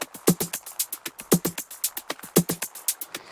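Layered electronic percussion plays in a tight, steady groove, with crisp clicky hits and shaker-like ticks repeating rapidly and punchier accents landing at regular intervals, loud and upfront.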